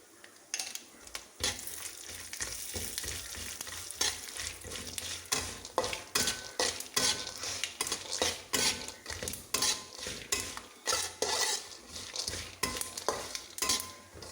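Coconut and sesame seeds are stirred in a pan, a rhythmic scrape of spatula on metal with a soft underlying sizzle and quiet, steady strokes throughout.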